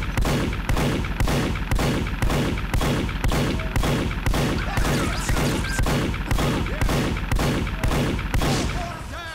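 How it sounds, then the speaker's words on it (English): Gunfire in a video game where engineers build teleporters: a rapid, evenly spaced series of loud shots, roughly two per second, that runs unbroken and fades slightly near the end. "Nice shooting, Tex."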